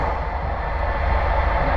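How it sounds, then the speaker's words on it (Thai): A sleeper train travelling along the railway gives a steady, continuous rumble with a broad hiss of wheel and carriage noise. It stays even and fairly loud throughout, with no talking. "เป็นคลิปในระหว่างที่เดินทางในรถไฟ"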